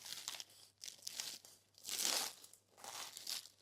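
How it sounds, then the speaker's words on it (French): A crispy homemade galette des rois being broken apart at home, giving repeated dry crackling and crunching bursts of flaky pastry, close and fairly quiet, with a louder crunch partway through. "regardez comme ça croustille"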